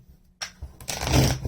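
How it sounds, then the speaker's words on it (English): A deck of tarot cards shuffled by hand, a short dry riffle and flutter of cards that starts after a quiet moment and builds into a close rustling burst. "1 more shuffle, actually"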